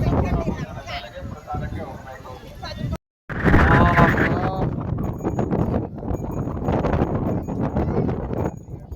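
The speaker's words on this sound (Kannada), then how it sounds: "ಅಷ್ಟು ಗಾಳಿ ಇದೆ ಇಲ್ಲಿ" Strong wind gusting across an open riverbank by the Tungabhadra, a continuous broadband roar buffeting the microphone, with a brief dropout partway through and people talking under the noise.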